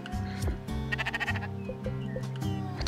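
Goat bleating in the video game Spiritfarer, several wavering calls over a busy game soundtrack, moderately close and fairly loud throughout.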